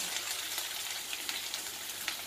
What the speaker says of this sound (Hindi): राई बड़ी छटदी है और उगदी है